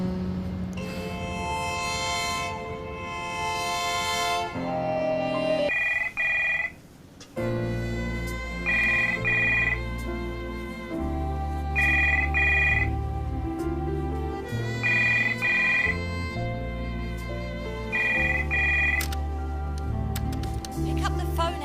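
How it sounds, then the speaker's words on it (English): A telephone rings repeatedly in an office, short paired electronic trills recurring at steady intervals over a loud musical background. "Pick up the phone, Ellington."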